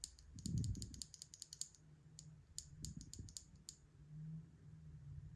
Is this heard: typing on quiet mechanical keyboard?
yes